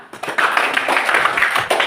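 A classroom group claps for the second student group before its presentation, a dense run of applause lasting nearly two seconds at moderate loudness.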